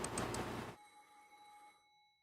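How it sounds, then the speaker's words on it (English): A telephone bell rings in one loud metallic burst lasting under a second, then its ringing tone lingers and fades away into quiet. "Now she's spring awake at the sudden sound of the phone."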